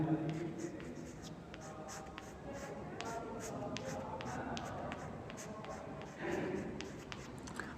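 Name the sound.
writing a chemistry mechanism on paper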